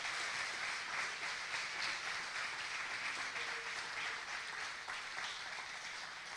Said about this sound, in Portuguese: Você pode aplaudir Jesus, irmão?